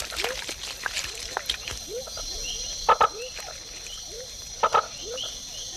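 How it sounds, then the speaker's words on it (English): Tiny frogs calling from shallow pools at the foot of dipteryx trees in a Panamanian forest, a scatter of short chirping croaks repeated against a background of insect buzz, with a couple of louder sharp clicks. "tiny frogs mate in very shallow pools at the foot of dipteryx and other trees"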